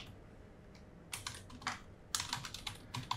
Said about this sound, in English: I just input from the keyboard